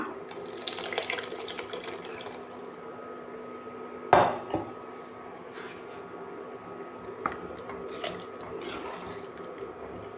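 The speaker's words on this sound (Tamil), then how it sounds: "இப்போ கறி வேக வச்ச தண்ணியையும் கொஞ்சம் சேர்த்துக்கலாம்." Water from boiling mutton runs steadily into a cooking pot of mutton curry, with a sharp clank of metal partway through and a few lighter knocks.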